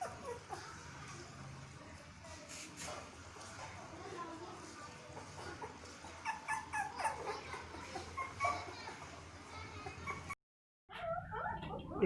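A Dalmatian puppy at an Indian puppy-sale stall gives soft, faint whimpers and a few short yips, scattered irregularly over low background noise, with a brief silent gap before the sounds resume.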